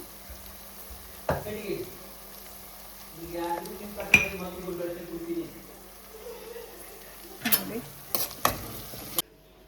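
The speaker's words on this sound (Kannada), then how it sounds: "ಇದು ಒಗ್ಗರಣೆ" A spice tempering fries in hot oil for an evening puffed-rice snack. Soft, intermittent sizzling comes with a few sharp pan and utensil clinks, and someone talks between them.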